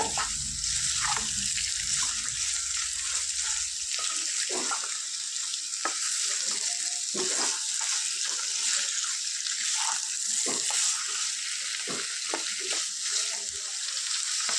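Mutton liver fries in a pan with steady sizzling and crackling. A few soft stirring knocks come through over roughly fifteen seconds, and no one speaks.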